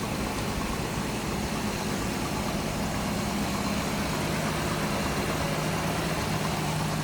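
A 1966 Ford Mustang coupe with a new alternator idles smoothly and steadily close by, a continuous even engine rumble with no talking.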